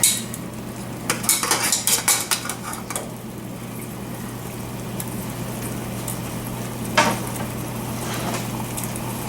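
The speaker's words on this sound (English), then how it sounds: "Let these start searing a little bit" Bacon-wrapped BBQ ribs sear in a pan with a steady low sizzle, and loud metallic clinks and scrapes of utensils against the pan come early, then one more clank later, close by.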